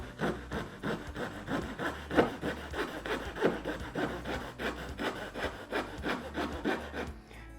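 A hand saw cutting wooden molding for an inside corner, a close run of steady rhythmic back-and-forth rasping strokes, each one a short scratchy burst, with no voices.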